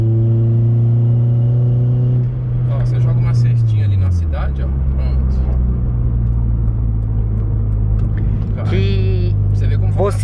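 A Honda Civic Si engine drones loudly from inside the car while driving, a steady low roar that dips as revs shift, with someone talking over it.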